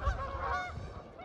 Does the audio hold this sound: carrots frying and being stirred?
no